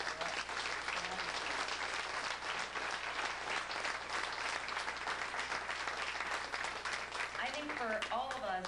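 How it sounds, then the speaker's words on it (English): Audience applause at the first Abbott and Costello convention, dense sustained clapping filling the room, with voices rising briefly near the end. "And I think they deserve a round of applause."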